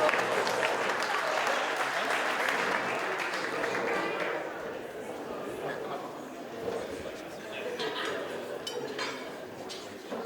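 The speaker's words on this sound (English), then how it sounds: "let's have a nice round of applause for Jamie" Wedding guests at a hotel reception applaud for Jamie, loud clapping at first that thins out after a few seconds, with voices and faint clinks of dishes and cutlery in the room.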